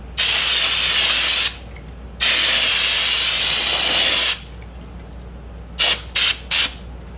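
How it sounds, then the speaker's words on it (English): Brake parts cleaner sprayed from an aerosol can onto the differential cover of a Jeep Cherokee XJ, giving two long, loud, steady hissing blasts followed by three short quick bursts, with quiet pauses between. "I also have brake parts cleaner to just spray in there and make it nice and clean"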